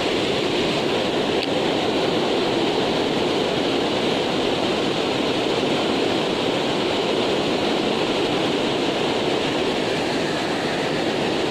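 Steady broadband rush of river water flowing at a hampala fishing spot, continuous and fairly loud throughout with no talk.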